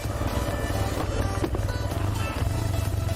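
A TVS Raider 125 motorcycle with a 125cc engine runs at a steady, smooth idle or low cruise: a continuous close, low rumbling hum with even pulsing and no revving, throughout.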